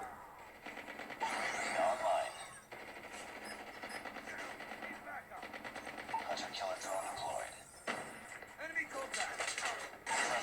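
Rapid automatic gunfire in a shooter video game played on a Mi 11 phone, dense and continuous with brief gaps, mixed with game background noise.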